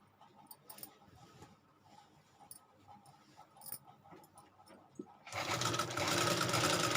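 A sewing machine stitching along the folded edge of a salwar starts up near the end after quiet handling sounds, then runs loud and steady for the last couple of seconds.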